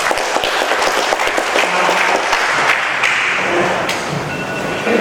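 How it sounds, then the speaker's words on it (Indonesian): An audience claps at an officer inauguration ceremony in a hall. The applause is loud and steady, many hands together, lasting throughout without talk. "Beri aplaus untuk semua."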